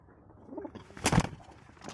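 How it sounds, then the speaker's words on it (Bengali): Paper fantail pigeon cooing once, a soft, fairly close call rising briefly above quiet background rustle. "এখানে একটা পাঁপড় পায়রা আছে"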